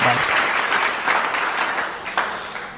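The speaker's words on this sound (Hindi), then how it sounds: "जोरदार तालियां राधे श्याम भारती जी के लिए।" Audience applause fills a Hindi poetry recitation gathering (kavi sammelan), a dense, steady wash of clapping throughout that thins slightly toward the end with a few sharper claps standing out.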